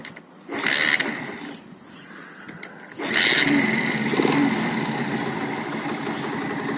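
An electric quad bike motor starts with a whirring, mechanical surge, drops back, then spins up again into a steady running hum with faint clicking from the drive.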